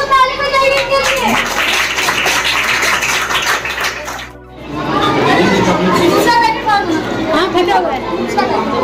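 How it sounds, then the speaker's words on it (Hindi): An audience at a women's health and nutrition awareness session breaks into loud applause, with lively crowd chatter running through the clapping and a brief dip midway before it swells again. "ताली बजाइए इनके लिए।"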